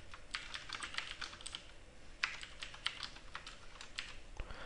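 Quiet, rapid clicking of keys on a computer keyboard as test code is typed, irregular bursts of keystrokes close by with no talking.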